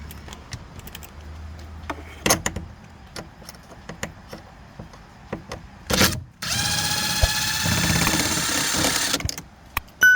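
A power driver works a Torx screw on an Audi A5 door while the window regulator is being replaced. Short tool bursts and clicks come first, then a sustained whirring run of several seconds, close and moderately loud.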